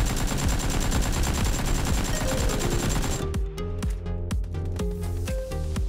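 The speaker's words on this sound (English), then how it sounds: "Assault rifle AK-47." An AK-47 assault rifle in PUBG fires in loud, rapid automatic bursts, a dense sustained spray at first, then tapering into spaced, sharper single shots with ringing tails.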